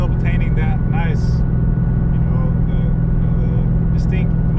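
A Ford Mustang GT with a 5.0 V8 and a Corsa Sport catback exhaust idles nearby with a steady, deep rumble, while short bursts of talk and small noises sit over it.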